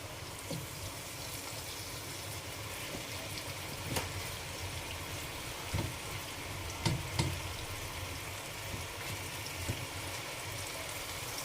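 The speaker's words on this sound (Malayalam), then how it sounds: "ഇനി ചിക്കൻ വറുത്തെടുക്കാം" Chicken pieces frying in hot oil for fried chicken biryani, a soft steady bubbling sizzle with occasional small pops and clinks, fairly faint, without voices.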